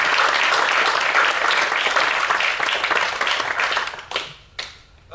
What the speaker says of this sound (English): let's give one more round of applause to all these people who are not here.